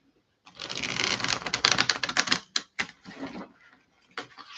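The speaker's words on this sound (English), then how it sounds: "let's get these cards together" Tarot cards shuffled by hand, a dense close riffle of flapping cards lasting about two seconds, then shorter bursts of cards being squared and gathered, with quiet gaps between them.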